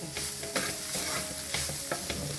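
Spoon stirring an onion breakfast mix in a pan with the flame switched off: repeated scraping strokes over a faint steady sizzle, close and fairly quiet, with no talking.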